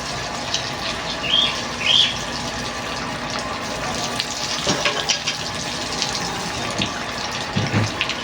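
Water gushes steadily out of the drainage holes of a tamarind bonsai pot just after repotting, a continuous splashing flow with a few bird chirps in the background.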